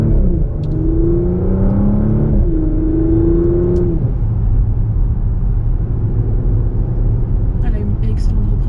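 A 2020 Porsche Macan Turbo bi-turbo SUV accelerating hard from inside the cabin, engine note rising through a gear change then settling into a deep steady roar, loud and close, with people talking over it.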